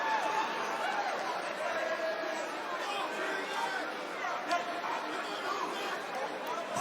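An arena crowd in Milwaukee, Wisconsin, murmurs and chatters at a UFC bout between Jose Aldo and Jeremy Stephens, a constant, fairly distant babble with no single voice standing out.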